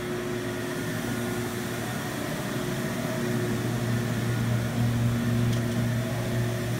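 CNC machine in a residential wood shop running on a phase converter, a steady electrical hum with tonal whine and constant mechanical drone, even and unbroken throughout.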